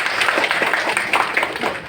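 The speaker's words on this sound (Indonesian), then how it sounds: "Tepuk tangan dulu." An audience at a Bawaslu Cilacap community event in Indonesia gives a round of applause, with steady, dense clapping filling the room at moderate loudness.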